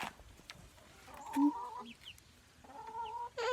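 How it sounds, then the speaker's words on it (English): Chickens clucking inside a chicken trailer at a homestead, a few short clucks and a drawn-out squawk heard close up against faint background rustling. "The chicky chicks are out."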